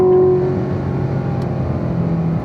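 Race car on the Spring Mountain Raceway track, a loud, steady engine drone close up as it shifts up to fourth gear, holding an even tone.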